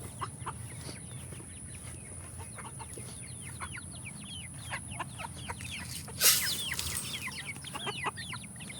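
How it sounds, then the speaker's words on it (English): Backyard chickens cluck and chirp in short repeated calls while being fed, a busy scatter of near and far clucks over a soft low background, with a brief louder rustle midway. "let me feed the chickens real quick"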